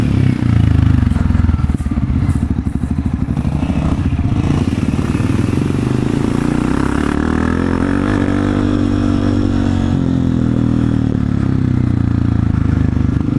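A loud Honda CRF 250 F dirt bike engine roars and revs continuously off road, rising and falling in pitch, with rattling mechanical clatter throughout.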